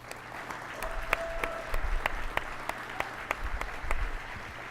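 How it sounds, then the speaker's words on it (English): Applause for award recipients at an Airman Leadership School graduation, a steady round of clapping from a seated audience lasting several seconds, with sharp individual claps standing out. "One more round of applause for all our award recipients."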